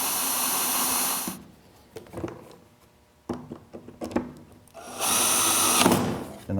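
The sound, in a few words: drilling a countersunk screw hole in wood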